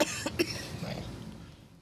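A single sharp cough from a throat tickle, then a second quick cough a moment later, close and fairly quiet, fading into soft room noise.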